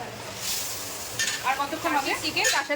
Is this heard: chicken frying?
yes